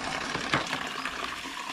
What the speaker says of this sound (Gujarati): અહીંથી જો પાણી ભરે છે અને હું જાઉં છું આ ધોવામાં નાખું.